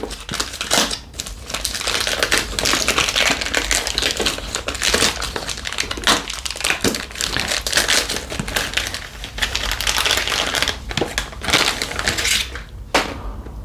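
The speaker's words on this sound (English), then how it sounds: "So let's do the quick unboxing of this iQOO 12." An iQOO 12 BMW edition phone is unboxed, with packaging crinkling, crumpling and tearing in continuous, close, fairly loud bursts of rustling and a few sharper clicks, heard alone.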